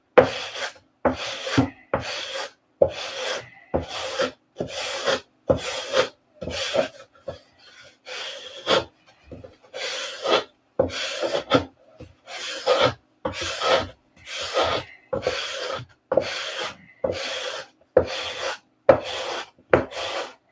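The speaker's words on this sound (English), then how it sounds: "You want to sand here and here to get that flat out" Hand sanding on an aircraft surface in a hangar: steady rhythmic rasping strokes, close and loud, repeating about once a second with a brief pause partway through and no voices.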